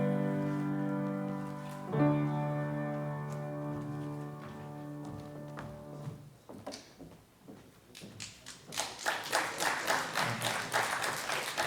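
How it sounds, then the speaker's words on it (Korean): A sustained organ-like chord rings and fades, then scattered claps grow into steady applause from a room full of people at a Korean church gathering. "박수로 하나님께 영광 돌리겠습니다"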